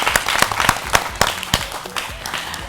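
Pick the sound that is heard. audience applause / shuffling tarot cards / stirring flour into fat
audience applause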